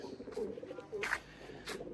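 Pigeons coo softly in a loft of breeding birds, a few low throaty coos close by with a faint background hum.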